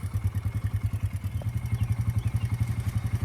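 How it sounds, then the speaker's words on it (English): A Kawasaki KLX140G dirt bike engine idles to warm up, a steady, close, loud thumping putter with an even fast pulse and light mechanical clatter, no voices. "let the bike heat up so that you're getting ready to drain all the oil out of it here"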